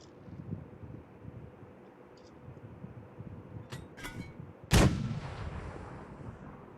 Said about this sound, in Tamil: அதான் வெடிச்சிருச்சு. பொசுங்கிருச்சு.